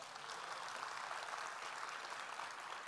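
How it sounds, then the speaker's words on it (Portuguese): Dense, continuous applause from a church congregation praising the Lord, steady and fairly quiet throughout with no break. "Aplauda ao Senhor."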